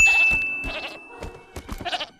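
Sheep bleat in several short, wavering calls close up in the animated film How To Train Your Dragon 2, one cry after another with brief gaps between them.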